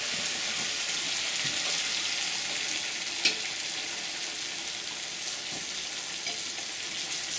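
Food fries in a pan with a steady, bright sizzle throughout, and a single sharp clack marks the food being flipped partway through.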